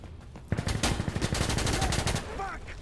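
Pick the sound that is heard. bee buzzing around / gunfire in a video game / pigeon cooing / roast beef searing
gunfire in a video game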